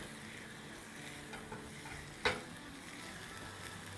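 Minced meat and chopped onion are stirred in a pot on the stove, giving a soft, steady sizzle and scraping. One sharp click of the spoon against the pot stands out midway.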